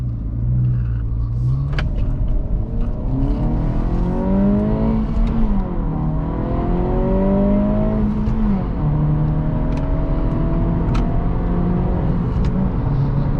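Steady engine drone from an Acura Integra A-Spec running a KTuner map in stop-and-go traffic, with smooth rising and falling revs through gear changes and constant road rumble, no talking.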